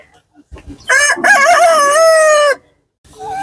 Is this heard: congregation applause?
no